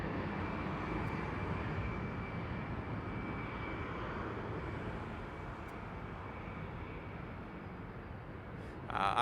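An airliner in Star Alliance livery takes off from Las Vegas Harry Reid International Airport, its engines a steady, moderately distant roar that stays even before a brief louder burst at the end.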